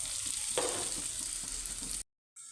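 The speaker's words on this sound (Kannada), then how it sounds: "ಕಟ್ ಮಾಡಿರೋದು ಈರುಳ್ಳಿ ಹಾಕ್ಕೊಂಡು ಚೆನ್ನಾಗಿ ಬಾಡಿಸ್ಬೇಕು" Chopped onions sizzling in hot oil in a kadai, a continuous close frying hiss with a brief stir, then cutting off abruptly near the end.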